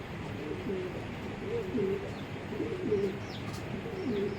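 Racing pigeons coo in a loft, with soft repeated throaty coos at a steady rhythm over a low, constant background hiss.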